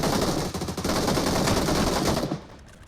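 Rapid automatic gunfire from a video game, a dense close burst of shots lasting about two seconds before dropping away abruptly.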